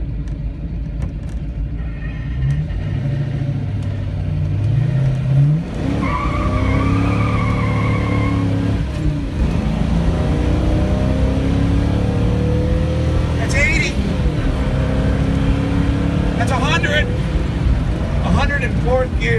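A 1970 Boss Mustang accelerates hard with its tires breaking loose, a loud rumbling engine pull heard from inside the car with rising gear whine and scrubbing tire noise, and people talking over it.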